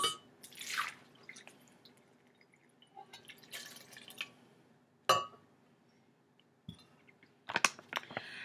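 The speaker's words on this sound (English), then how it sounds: "pour the milk, whether it's almond milk or coconut milk is actually really good in this, or dairy milk" Milk poured into a blender for a matcha chai green tea smoothie, heard as a few separate splashy, dripping bursts with light glassy clinks between quiet gaps, close and moderately loud, with no talking.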